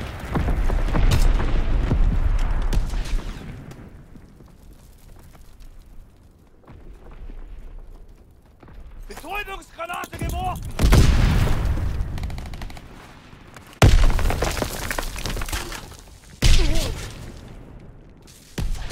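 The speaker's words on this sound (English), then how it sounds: "Enemy mortar fire incoming!" Mortar fire explodes in a Call of Duty WW2 battle, heavy bursts and rumbling blasts arriving in clusters, with a loud close impact mid-way and more booming hits later, amid gunfire and shouted battlefield callouts.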